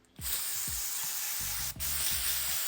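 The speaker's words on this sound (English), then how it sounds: "Now I'm going to hose it down with some brake cleaner" Brake cleaner sprayed from a can onto an aluminum valve cover, a close, loud, steady hiss that runs almost without a break, with one brief pause, and no talking.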